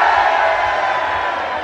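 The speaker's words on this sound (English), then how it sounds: "2 chilies each, cheer now." A crowd cheering and whooping at a spicy chili challenge, a loud sustained burst of mixed voices lasting under two seconds.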